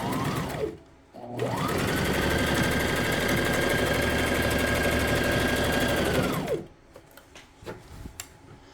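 A sewing machine stitches elastic into a two-tone flare skirt, running in one steady, loud, close burst of several seconds after a brief start, then stopping, with faint handling noises around it.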